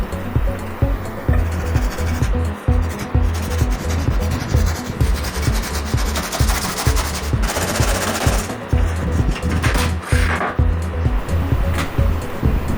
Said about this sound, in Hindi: कटी हुई PVC शीट को हम रैगमार से अच्छे से घिसकर प्लेन कर देंगे।